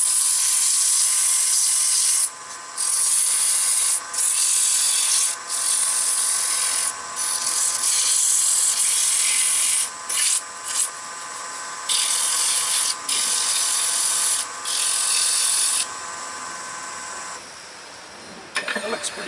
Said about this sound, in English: And again, I'll sand them.